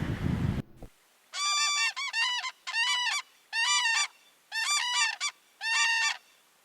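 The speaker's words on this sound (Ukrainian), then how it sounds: "Журавель зимуючий чи перелітній птах?" A crane calls loudly and close in about six bursts of ringing, honking notes after a brief noisy start, with near silence between the calls.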